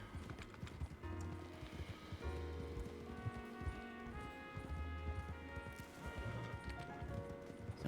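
A horse's hooves clip-clop at a steady walking rhythm in a ranch roleplay video game, soft and fairly distant, with a faint tonal background underneath.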